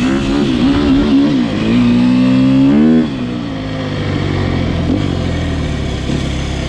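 A 2020 Sherco 300SEF four-stroke dirt bike engine revs quickly and loudly up and down, with rising and falling pitch sweeps, then settles to a steady idle.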